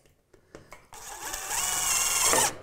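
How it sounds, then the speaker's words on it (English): A power drill drives a screw into a corner joint while a basement is being finished: a few light taps come first, then a loud, close whirring that rises in pitch and cuts off sharply after about a second and a half. "Now, to finish that off, right, we can screw that corner."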